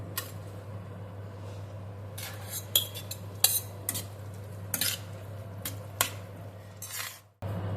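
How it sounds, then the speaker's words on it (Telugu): Washed poha being tipped into a pan and stirred with a metal spoon for Andhra-style poha upma, giving a string of sharp, close scraping and clinking hits over a steady low kitchen hum, with no talking. "ఇప్పుడు ఈ కడిగేసిన అటుకులు ఉన్నాయి కదండి, కడిగిన అటుకులు ఉన్నాయి కదా, ఇది ఇందులో వేసేసుకుందామండి"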